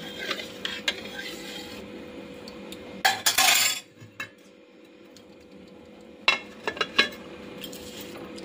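A spoon stirs a little saved yogurt into warmed milk in a dish to set curd in a home kitchen, making close, bright clinks and scrapes in quick clusters separated by quiet gaps.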